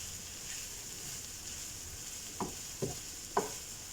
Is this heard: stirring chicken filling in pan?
yes